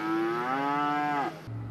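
A single long moo from one head of cattle on an Angus ranch, loud and close, holding steady then sliding down before breaking off, with a brief low rumble after it.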